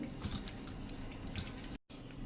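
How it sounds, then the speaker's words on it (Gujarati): Water runs and splashes over cut medium-sized potatoes as they are rinsed in a kitchen, a soft continuous wash with small drips that cuts off briefly near the end. "હવે આને આપણે પાણી નાખીને ધોઈ નાખશું 2-3 પાણી"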